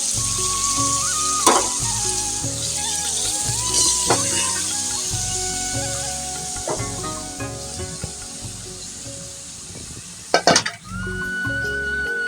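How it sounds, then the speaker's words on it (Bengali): Dried chela fish and vegetables (bean, potato, aubergine, Malabar spinach seeds) sizzle steadily with spices in a pan, a continuous loud fry with occasional stirring scrapes and clatters. "মশলা দিয়ে শুটকিগুলোকে কষিয়ে নিলাম এখন আমরা সবজিগুলো দিয়ে দেবো"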